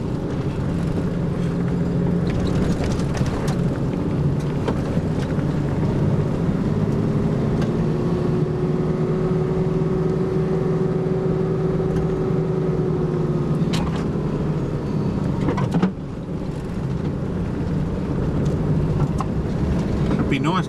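An old, big Nissan 4WD drives a bush border track through a park, giving a steady, loud engine rumble and road noise throughout, with a bump near the end and voices underneath.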